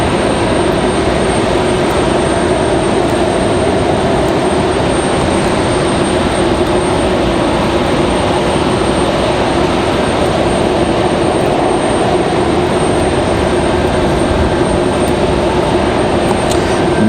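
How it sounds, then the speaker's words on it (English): A Delta Boeing 737-900 jet arrives at Raleigh-Durham airport, its engines producing a loud, steady roar and broadband rush that holds level throughout with no talk over it. "Delta 1518 coming in from Atlanta, Georgia."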